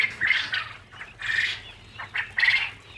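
Caged quail calling while feeding in cold winter weather, several bright chirping bursts in quick succession at close range, with no talking.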